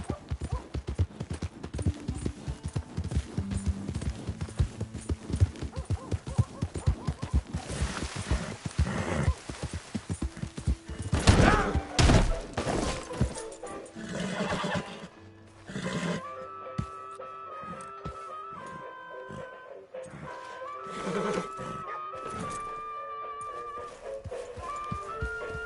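Horse hooves clip-clopping in a steady rhythm with a possible neigh, partly masked by music and other sounds over a long stretch.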